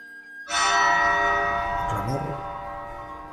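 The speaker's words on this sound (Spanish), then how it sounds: "Escuchemos cómo sonaba, y aún suena, el toque de difuntos a tránsitos en Miguel Turra." A large church bell in Miguel Turra, Spain, tolling a death knell, is struck once after brief silence, its loud ringing tone slowly decaying with lingering overtones.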